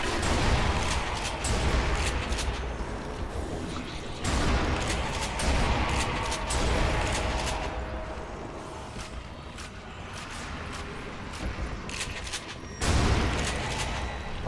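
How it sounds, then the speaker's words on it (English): Shotgun fire in Sniper Elite Nazi Zombie Army rings out as a dense stream of heavy blasts mixed with other gunfire and combat clatter, with a few louder booms that stand out from the constant barrage. "I like this shotgun."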